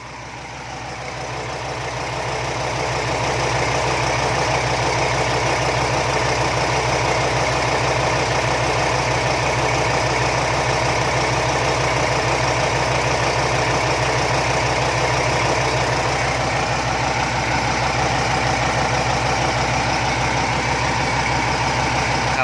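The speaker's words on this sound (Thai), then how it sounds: "นิสสันดีเซล V10 สิบสูบนะครับ สิบลูกสูบนะครับท่านผู้ชม" Nissan V10 diesel engine of about 350 horsepower idling aboard a tugboat, a loud, close, continuous low rumble with a steady knocking vibration that swells in at the start and then holds.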